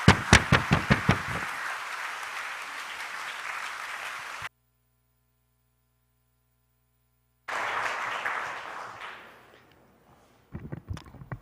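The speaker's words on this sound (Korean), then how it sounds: "목사님 다시 한번 나오실 때 우리 박수 한번 날까요?" A church congregation applauds its pastor at a Sunday worship service. Sharp claps open the clip and give way to a steady wash of applause, then a silence, then a second burst that fades and ends with a few scattered claps.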